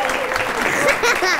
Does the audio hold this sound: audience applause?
yes